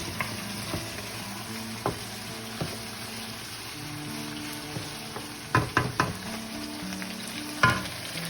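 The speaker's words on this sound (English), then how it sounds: "Give it a nice stir. Let it mix." Chicken karahi with melting tomatoes sizzles in a pan while a spatula stirs through it, giving several sharp scrapes and clacks late on over a steady close fry. No one speaks.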